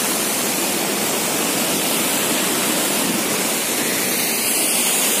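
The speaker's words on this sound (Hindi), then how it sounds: "ये बहुत बड़ा झरना है" A large waterfall roars as a loud, constant, dense rush of water that fills the whole scene without a break, and no voices are heard.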